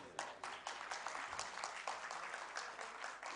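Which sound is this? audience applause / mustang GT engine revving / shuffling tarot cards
audience applause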